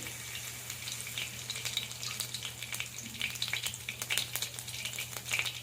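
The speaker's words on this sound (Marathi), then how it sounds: "तेल गरम झालं की त्यात थोडी मोहरी," Mustard seeds sizzle and crackle in hot oil, with quick irregular pops over a continuous frying hiss and a low steady hum.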